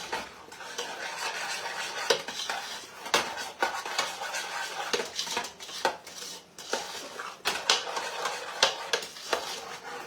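A spoon stirs two cups of sugar in a metal pot for peanut brittle, with repeated scraping and clinking against the pot in an irregular rhythm, close up and without talking.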